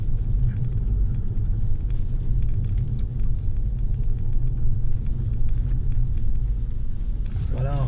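A car passes at high speed on a road near the Cirque de Navacelles, a loud continuous engine rumble and tyre roar that stays steady throughout as it goes by close.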